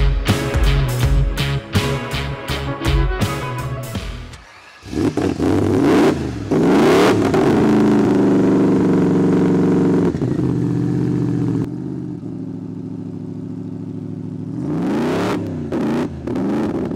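Tazio Nuvolari's Alfa Romeo 8C Monza vintage racing car at The Ice St. Moritz. It cranks in rapid stuttering bursts, catches, then revs up and down in loud rising and falling sweeps, drops to a throaty idle, and revs again at the end.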